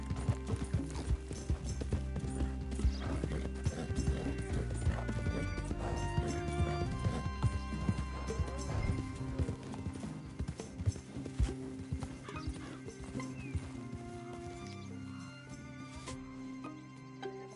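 A horse gallops in Red Dead Redemption 2, its rhythmic clip-clop hoofbeats running steadily under game music, with mechanical rattles and a possible whinny mixed in.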